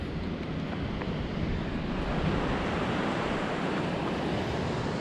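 Ocean surf washes onto a beach in a steady, loud roar of breaking waves mixed with wind buffeting the microphone, continuous throughout with no voices.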